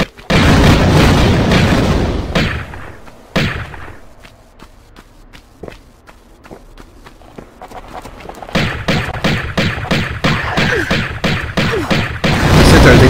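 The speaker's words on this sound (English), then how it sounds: "Man, those explosions are intense." Explosions in the 1996 Tomb Raider video game boom loudly at the start, fade into a quieter stretch, then return as a dense series of sharp bursts and thuds that build toward the end.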